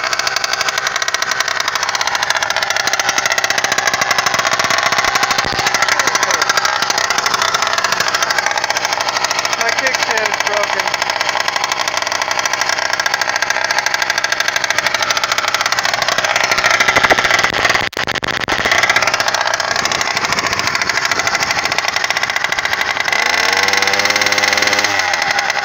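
A motorcycle engine fitted with an F2 Thrust muffler runs loud and close for the whole stretch, a steady, rough idle with a knocking edge and no pauses.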